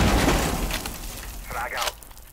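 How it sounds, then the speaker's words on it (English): A cluster charge detonates in Rainbow Six Siege, a rapid series of sharp, crackling blasts and shattering bursts that rolls on for about two seconds before cutting off, loud and close. "Blowing cluster charge."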